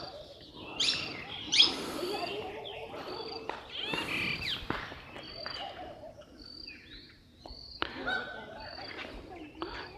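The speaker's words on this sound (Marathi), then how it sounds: "मोरांचे आवाज आहेत, पशुपक्ष्यांचे आवाज आहेत" Birds including peacocks calling in the open grounds around an ancient hilltop goddess temple, with repeated chirps and loud calls scattered over a faint insect-like background, some near and some farther away.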